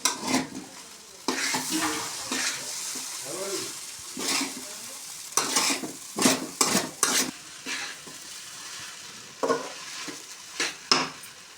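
Uppudu pindi with coriander stirred in a pan: a spoon scrapes and knocks against the metal in uneven bursts over a light sizzle, close and fairly loud, with no voices.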